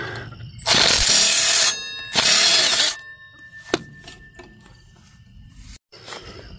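Hand tools working on the brake of a junky go-kart, with two loud sustained grinding bursts, a sharp metallic clank, then quieter rattles and knocks.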